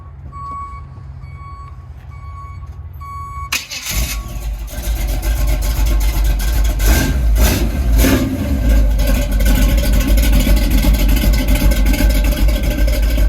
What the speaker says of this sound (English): The motor's a 355 small block. Sounds pretty good. I'll fire it up real quick.